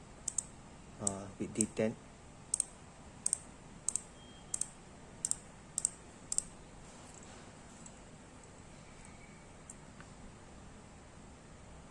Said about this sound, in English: The spool tension knob adjustment, this one comes with the clicking